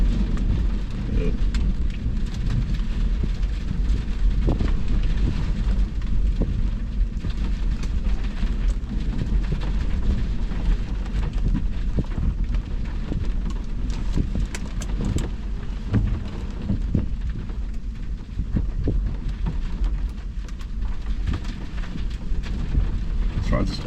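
A September thunderstorm in McCook, Nebraska: steady heavy rain pouring and drumming on surfaces nearby, with low rolling thunder rumbling underneath throughout and occasional sharper cracks.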